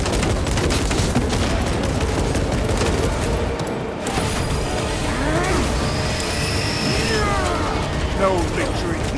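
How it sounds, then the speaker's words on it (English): A frag grenade detonating in the video game Space Marine 2, amid a dense, loud wash of battle noise, mechanical clatter and gunfire, with a brief dip before rumbling combat resumes. "Frag grenade!"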